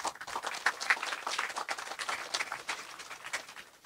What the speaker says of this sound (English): And I think you can give yourselves a warm round of applause